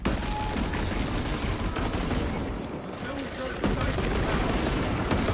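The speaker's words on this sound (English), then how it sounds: "This gun truly is Daka Daka Daka." A gun in Space Marine 2 lets off rapid, continuous fire, a dense stream of shots with a short dip in the middle. Voices talk over it.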